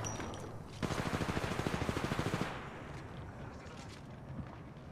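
Automatic weapon fire in Apex Legends Mobile rattles out in a rapid, evenly spaced burst of about twenty shots, loud and close, then gives way to quieter scattered combat noise.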